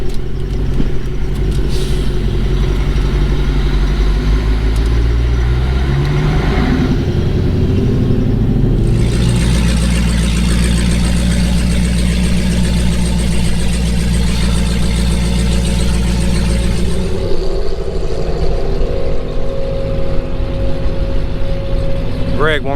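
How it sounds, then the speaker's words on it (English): A Hellcat idles steadily at the track while its transmission warms up, a deep, even engine rumble holding throughout with a brief rise near the middle; people talk nearby over it. "Greg warming his transmission up."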